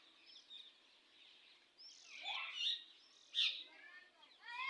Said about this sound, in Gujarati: ફ્રેન્ડ્સ, કેટલું મસ્ત પોપટ ને બધું